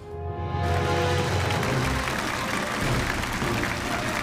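Studio audience at a Chinese antiques appraisal show breaks into loud, sustained applause, a dense wash of clapping that holds steady throughout.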